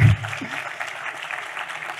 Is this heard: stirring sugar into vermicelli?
no